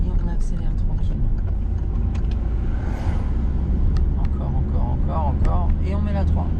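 Car pulling away gently during a driving lesson, a low steady engine rumble from inside the cabin with a mild rise, while an instructor and learner talk over it.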